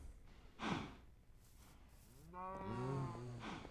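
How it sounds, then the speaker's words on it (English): A cow in a survival video game gives a low drawn-out moo that slides in pitch, heard close but fairly quiet after a few breathy, scuffing noises. "a loose cow."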